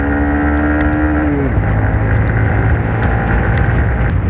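A Honda SP125 BS6 125cc motorcycle rolling on after a wheelie during a U-turn: a loud, steady engine drone whose pitch drops sharply about a third of the way in, then carries on at a lower, rougher note with wind rush.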